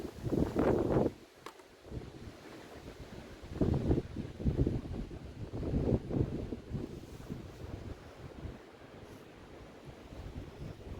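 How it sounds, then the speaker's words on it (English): Strong wind on an Appalachian Trail ridge gusting against the microphone in several loud, rumbling bursts separated by calmer stretches, outdoors with no talking. "Very windy."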